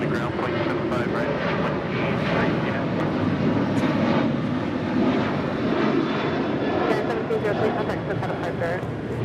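A United Boeing 737-800 departs Los Angeles International for Houston, a loud, sustained jet engine roar with steady broadband rumble, while a voice talks over it.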